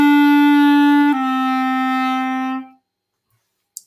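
Clarinet plays a short slurred phrase from the solo piece Melody, with smooth connected notes and no tongued attacks, sustained tones changing pitch about a second in, then stopping into silence, close and clear.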